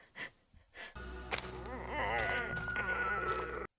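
An ostrich horse from the animated series Avatar: The Last Airbender lets out a loud, shrill whinny with wavering pitch after a couple of soft thumps, the cry lasting several seconds before cutting off abruptly.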